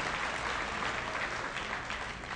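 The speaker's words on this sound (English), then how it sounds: "we'll join them in applause" Audience at a high school award ceremony applauding, a steady dense wash of clapping from many hands throughout.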